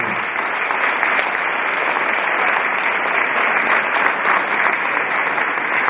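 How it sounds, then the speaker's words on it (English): Steady, dense applause from a congregation at a funeral home-going service, honoring the Morgan family matriarch; loud, close and sustained throughout without a break. "And while we're clapping, let us honor the matriarch of the Morgan family"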